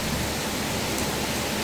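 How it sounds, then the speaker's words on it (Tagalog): Heavy rain pours down at a beach in Batangas, a dense, even hiss of falling water with no break, steady and loud throughout. "Sobrang lakas na ulan with matching kulugit kidlat"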